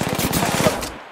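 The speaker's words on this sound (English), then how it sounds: "Getting shot at." A short burst of rapid automatic gunfire in the Apex Legends battle royale game, quick repeated reports in a tight rhythm lasting about a second.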